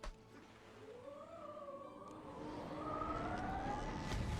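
A Sirens attack spell in the Wizard101 video game, a wavering, rising siren-like wail sweeping upward over a low rumbling backdrop, steady and growing slightly louder toward the end.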